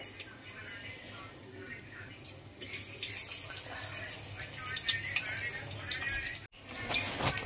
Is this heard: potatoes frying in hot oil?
yes